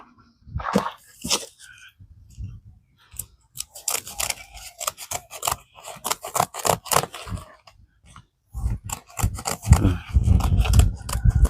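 Scissors snip and crunch through an old plastic fertilizer sack in repeated uneven cuts, close and fairly loud, with a short pause before a denser burst of cutting near the end.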